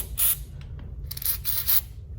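Lithium grease is sprayed from an aerosol can onto the working parts of a 1959 Impala steering column in three short hissing bursts, close and crisp, with quiet gaps between.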